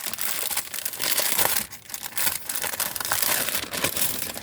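A stained glass window sticker for patio doors crinkles and crackles loudly and close up as it is unwrapped and handled, with continuous irregular plastic rustling and a brief lull partway through.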